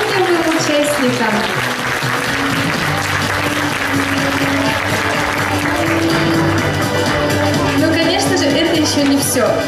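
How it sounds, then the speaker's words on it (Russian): Warm audience applause greets contest participants at a Siberian talent festival award ceremony, continuous clapping from a large crowd, loud and even, with sustained tones and some voices running beneath it. "Ваши аплодисменты нашим талантливым участникам."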